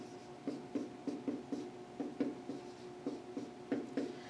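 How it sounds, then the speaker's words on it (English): Pen or pencil writing out algebra by hand, heard up close as quick repeated scratchy strokes in small clusters, quiet and steady, with a faint background hum and no talking. "so I'm just going to write that down"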